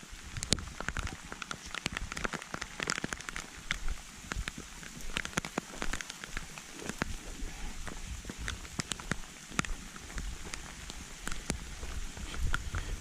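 Heavy rain pours onto a forest hiking trail in Virginia, a constant dense patter with sharp drops striking nearby surfaces, steady and fairly loud throughout with no voices.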